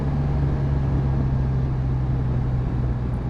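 BMW R1250RT touring motorcycle engine after a downshift on the road, a steady low drone with a constant hum and wind rush, continuous and fairly loud throughout, no talking.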